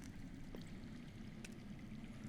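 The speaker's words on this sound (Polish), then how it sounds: "I hear water. From underground." Underground flowing water in a Game of Thrones video game, a steady low rumbling gurgle that runs continuously and fairly loud, with brief faint clicks over it and no voices.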